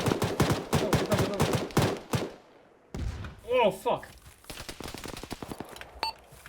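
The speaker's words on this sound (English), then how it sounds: "Machine gun still active, main cannon's down." Rapid machine gun fire bursts from a military video game battle against a BMP armored vehicle, sounding in clustered rattling volleys and thuds while players shout and talk over it.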